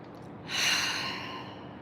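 A single deep inhalation during a guided breathing meditation, swelling audibly about halfway through and tapering off slowly, close and clear with no talking.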